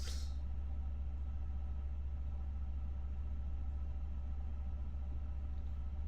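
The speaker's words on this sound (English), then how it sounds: "Wow, that is bass boosted on my side. Some loud engines." Airbus A350 jet engines in the flight simulator MSFS 2024: a steady, heavy low rumble with a deep bass drone that stays constant and fairly quiet throughout, with no voices.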